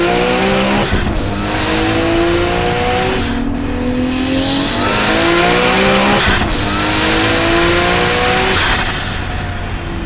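Nissan R32 GTR with a T88 turbo pulls hard at wide open throttle in second gear from 5,000 RPM, its loud engine note climbing steadily with two quick gear changes breaking the rise, recorded close from inside the car.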